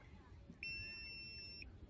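A GPS bait boat gives a single steady electronic arrival beep for about a second, high and clear over faint background noise.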